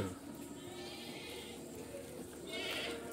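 Several dairy goats bleat in a farm pen in Jember in the afternoon, their calls rising above a steady background hum, with a louder bleat near the end.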